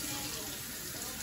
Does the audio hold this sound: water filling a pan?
yes